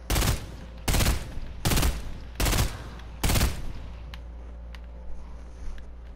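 Five sharp, loud gunshot bursts from the Fortnite video game ring out in an even rhythm, each followed by a short decay, then fainter clicks and small pops trail off in the background.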